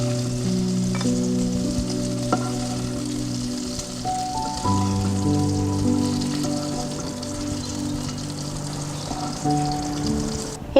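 Okra frying in a pan for a masala curry, with a steady crackling sizzle running throughout, close up and alone, under a faint background hum.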